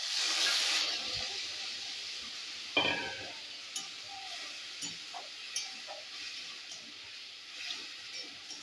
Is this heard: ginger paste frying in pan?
yes